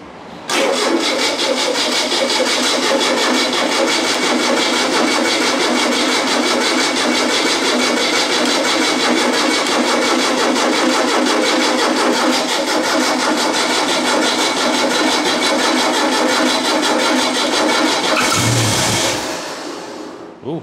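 An air-cooled Volkswagen engine with a Solex H30/31 carburetor cranks and catches, running loud and steady close by for about eighteen seconds before cutting out abruptly near the end.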